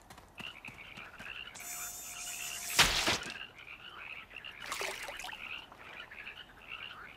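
A chorus of frogs croaks steadily around a pond in a cartoon, with a dense, rhythmic stream of croaks running throughout, broken by a sudden loud splash-like burst and a brief whistling tone.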